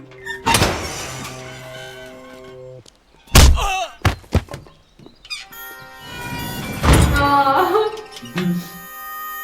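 A heavy jail door is opened in a scene from the Hindi film Sholay: loud clanking thuds and a sliding scrape come in bursts over a sustained musical score.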